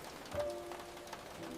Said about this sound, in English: The rain has a rhythm, soft and endless.